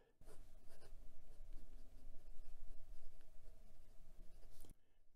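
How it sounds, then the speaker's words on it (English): A Penbbs 323 aluminum fountain pen with a medium steel nib writes on Clairefontaine 90 gsm paper, giving a close, quiet, steady scratching of strokes for about four and a half seconds. "And we're back with the writing portion of the review. This is Claire Fontaine 90 GSM paper"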